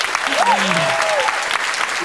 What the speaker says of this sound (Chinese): 给我拍手一下。